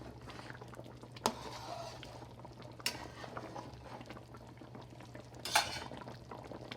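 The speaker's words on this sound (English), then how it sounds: "Stir in between 1 or 2 times. So make sure it doesn't stick at the bottom." Chicken thigh curry stirred in a pot, a quiet simmering bubble with three sharp clinks of a utensil scraping and knocking against the pot at intervals.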